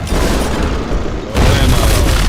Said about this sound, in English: and then we drop a whole building